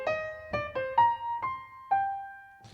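Solo piano plays a short motif of six distinct struck notes, each with a sharp attack and clear ringing decay, the last note held and sustained alone in a quiet room.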